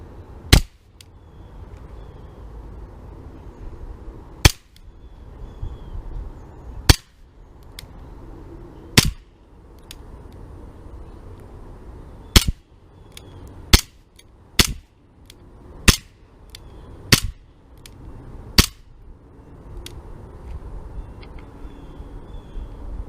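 A Tanfoglio Witness 1911 full-metal CO2 blowback airgun pistol shoots 0.12 gram BBs, each one a single sharp crack with snappy slide action, a dozen or so shots spaced unevenly over a quiet indoor hum.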